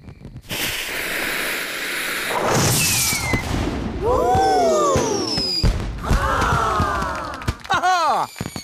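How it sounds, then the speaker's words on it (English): A giant cartoon firework goes off with a whooshing launch, then a string of bursts and descending whistling sparkles, loud and layered with bright musical effects. "And now for the giant firework."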